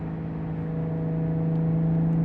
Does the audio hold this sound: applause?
no